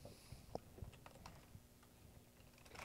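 Scattered, quiet keystrokes on a computer keyboard, a few sharper clicks standing out over a soft room hum, with no voices.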